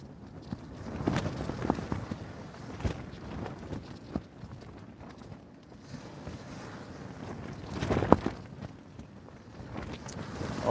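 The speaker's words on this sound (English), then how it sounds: "this wind has been a pain in the bum" Gusty wind at a seaside fishing spot in the UK, buffeting the microphone in uneven low rumbles and bursts, strongest near the end, with no talking.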